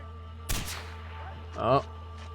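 A single heavy mortar blast in Far Cry 4 booms out abruptly and decays, followed a moment later by a short spoken exclamation over a steady low hum.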